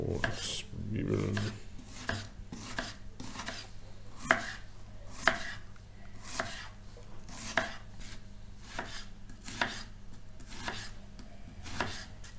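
A knife chops onions on a board for meatballs, with crisp, evenly spaced strokes roughly once a second, close and clear against a quiet kitchen, no talking.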